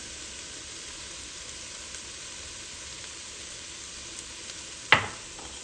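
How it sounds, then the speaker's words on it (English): Meat sizzles in a pot for lasagna soup as a steady, moderate hiss, with one sharp clatter near the end and no voices. "then I'm gonna go ahead and drop my meat in"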